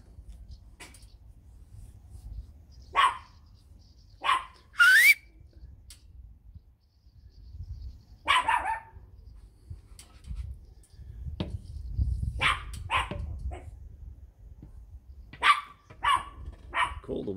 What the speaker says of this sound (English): Call the one dog, call the puppy, and the older dog comes to thinking you're calling him.